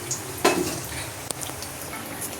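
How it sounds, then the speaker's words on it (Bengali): Chops and eggplant fritters fry in a pan of oil on a rainy day, giving a continuous close crackling sizzle with a couple of brief metallic utensil clinks. "এখন আমি চপ ভাজতে বসেছি"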